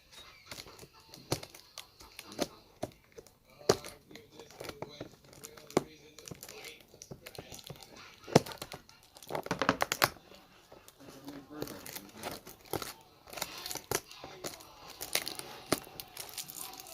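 Cardboard box being opened by hand, with irregular tearing, ripping and crinkling of tape and packaging in close, sharp bursts, scattered among quiet talking.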